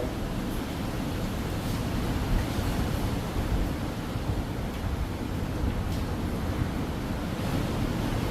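A steady, loud roar of wind buffeting the microphone outdoors in a Jaffna village, continuous and unbroken, with a surf-like wash underneath and no voices.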